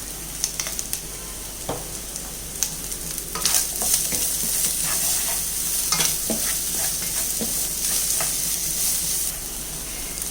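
A rava mixture is sautéed in a pan with cardamom powder, and a spoon stirs it. A continuous soft sizzle runs throughout, broken by scraping and knocking from the stirring, with no voices.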